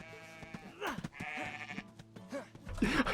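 A ram in the DayZ survival game bleats in short wavering calls, a few cries spread over a few seconds, fairly close, with light game background noise around them.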